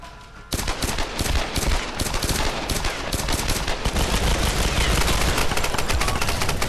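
Pistol fire in Tomb Raider multiplayer on PS3, with rapid, dense, loud shots in continuous volleys, close and overlapping throughout.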